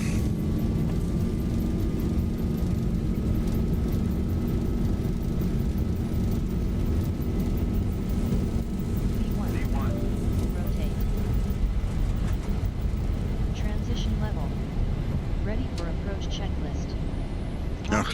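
Airliner engines in a flight simulator running up to takeoff thrust, a loud continuous roar with a rising whine, while people talk over the noise.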